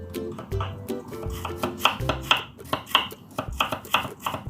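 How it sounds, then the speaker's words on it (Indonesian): A knife slices garlic and spices on a cutting board for a chicken garang asem. The cuts land as crisp, close taps in a steady, slightly uneven rhythm with no talking. "Kemudian bawang putih juga diiris seperti ini."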